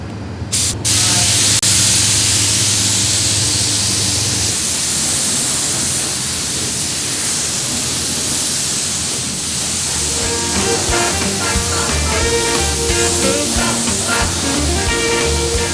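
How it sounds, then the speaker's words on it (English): A spray gun painting a 1956 Chevy Sedan Delivery hisses in a long, steady, loud blast of air, with an air compressor droning and rattling underneath, building in the second half. "let you turn on the air compressor. We'll talk about painting."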